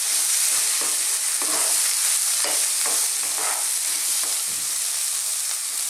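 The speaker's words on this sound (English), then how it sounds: "on this same heat and stirring all the time, because we don't want to burn our powders now" Spice powders for an eggplant curry frying in a hot pan, stirred continuously, giving a steady close sizzle broken by repeated scraping strokes of the spoon.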